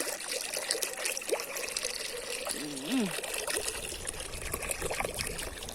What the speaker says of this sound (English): Get in water in a pot.